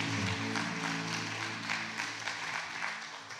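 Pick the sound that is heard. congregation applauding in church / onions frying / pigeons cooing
congregation applauding in church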